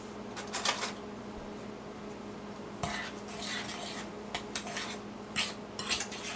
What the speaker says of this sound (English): get the sugar and the margarine or butter mixed better